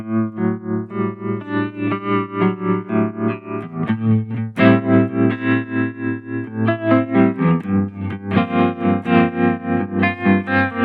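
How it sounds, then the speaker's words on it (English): An electric guitar plays chords through a fast, pulsing tremolo from a Chase Bliss Audio Warped Vinyl pedal, the volume throbbing rapidly and evenly, loud and close with no voices. "we're going to get very fast tremolo sounds"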